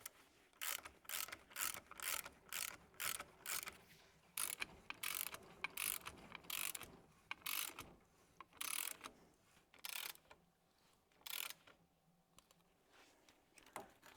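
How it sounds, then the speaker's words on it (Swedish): A spring compressor is tightened on a Volvo 740 coilover spring with a rapid run of sharp ratcheting clicks in bursts, close and fairly quiet, with short pauses between strokes. "då kan vi släppa eller dra ihop ytterligare den här för att trycka ihop fjädern"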